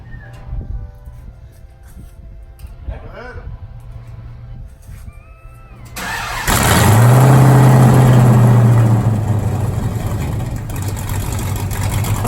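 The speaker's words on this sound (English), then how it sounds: "We're gonna start it with no exhaust just to see what it sounds like." A Dodge Dakota R/T pickup engine fires up after quiet shuffling and runs loud and raw with no exhaust, a harsh steady roar close by.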